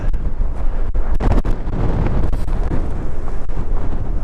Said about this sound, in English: The wind's still very bad.